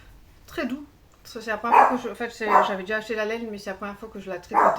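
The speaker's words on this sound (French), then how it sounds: "Désolée pour mon petit chien, mais elle avait décidé de se manifester." A small female dog barks and yips repeatedly in a home while someone talks steadily about knitting; the barks come in several bursts under and between her speech.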